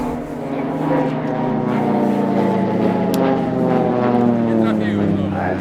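Swiss Air Force PC-7 turboprop trainers crossing low at a RIAT air display produce a loud, steady, humming engine drone that shifts slightly in pitch as they pass, with an announcer talking over it.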